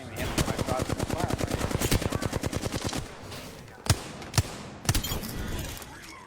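Automatic gunfire in the video game Apex Legends rattles in a fast, steady burst for about three seconds, followed by three separate loud single shots, all close and prominent.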